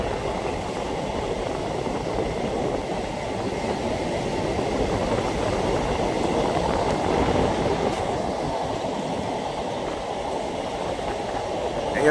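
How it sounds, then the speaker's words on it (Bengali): A MEMU passenger train runs steadily on rails near Azimganj while taking a curve, with a continuous loud rumble and clatter of wheels and carriages heard from on board, without any talk. "আর আমাদের ট্রেন কার্ভ নিচ্ছে, একটি কার্ভ নিচ্ছে।"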